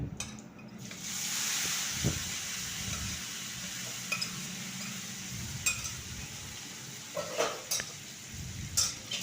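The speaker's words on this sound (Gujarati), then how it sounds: "હવે આ મઠ અને મગ બી નાખી દઈશું." Moth and mung beans drop into hot oil with asafoetida in a pan for misal, giving a steady, soft sizzle with occasional stirring clinks and scrapes, no voices.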